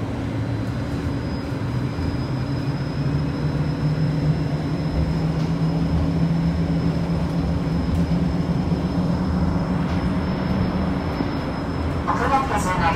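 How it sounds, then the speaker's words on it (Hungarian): Budapest line 75 trolleybus driving and maneuvering around a square, a steady loud interior hum of electric motor and road noise with a faint high whine, continuous throughout. "Itt nem tud kifordulni a trollibusz, ezért itt meg kell kerülni a teret."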